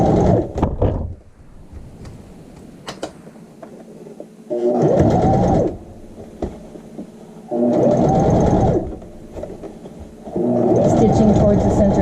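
Sewing machine stitching an elastic waistband into child's shorts, running in three sustained loud bursts separated by quieter pauses, ending with a back stitch.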